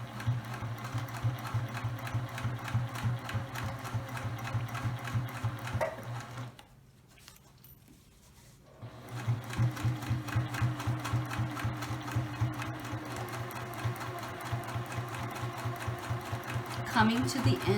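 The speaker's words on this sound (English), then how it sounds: "I'm going to remove the sewing pin out of the way, and I'm going to start to sew" A domestic sewing machine runs a back stitch through a fabric placemat in steady, rapid mechanical bursts, pausing briefly mid-way before resuming, close and loud with quiet talk underneath.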